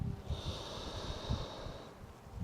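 Slow, deep breathing during a yoga exercise, with soft airy breaths and a faint snort-like exhale heard close but quiet, with no talking.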